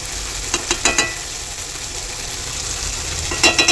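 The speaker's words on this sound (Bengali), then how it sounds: "এখানে আমার আলু পটলের তরকারিটা মশলা কষাচ্ছি" Spices for a potato and pointed gourd curry fry in a pan with a constant loud sizzle, broken by a few sharp spatula taps and scrapes near the start and end.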